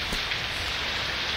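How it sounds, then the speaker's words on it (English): Steady rain in the video game Pulse falls as a dense, even hiss of drops striking surfaces, continuous and fairly loud with no voices. "Because it's raining."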